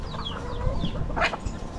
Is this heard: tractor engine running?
no